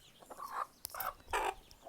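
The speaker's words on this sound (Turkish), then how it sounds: "Yeşil, yeşil yumurtlayan tavuk yumurtladı." A hen clucks in short irregular bursts near a backyard coop where a hen has just laid a green egg, with a few louder squawks among the calls.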